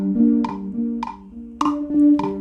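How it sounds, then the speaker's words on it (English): Sequential bass synth from GarageBand for iOS in an Afrobeat beat built from stock sounds, playing a steady pulsing pattern of four plucked bass notes with bright attacks, clear and alone with no voices. "The next one is the sequential bass."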